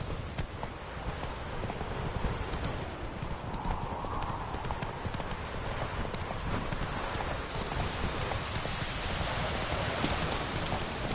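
Roach, a horse in The Witcher 3: Wild Hunt, gallops at a steady clip-clop with a rapid rhythmic hoofbeat pattern that stays close and continuous over soft ambient noise.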